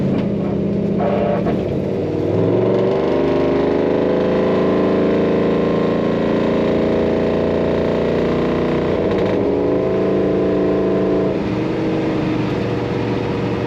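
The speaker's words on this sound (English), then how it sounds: "Just a nice crisp sound to that exhaust." A 1956 Ford Parklane wagon's engine and exhaust drone steadily from inside the cabin with windows up, rising and easing slightly as it drives, loud and continuous with no talking.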